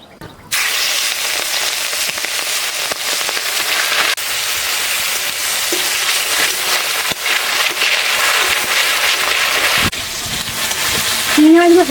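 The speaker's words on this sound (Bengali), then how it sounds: "এবার চিংড়ি মাছগুলো ভেজে নেব" Prawns frying in hot oil in a home kitchen pan, a dense, steady crackling sizzle that runs loud and unbroken for several seconds, with a brief clatter near the end.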